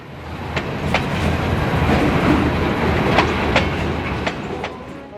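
A Portland & Western train rolls down a long eastern grade on the Toledo District toward the Marys River Basin, its steady rumble and wheel noise filling the clip, with sharp periodic clicks of wheels over rail joints.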